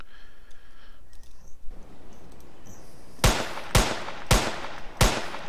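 Lever action rifle shots in a game demo, four sharp, loud cracks spaced roughly half a second apart in the second half, after a quieter stretch of background game sound.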